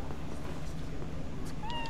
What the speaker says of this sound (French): Oh, le petit chat.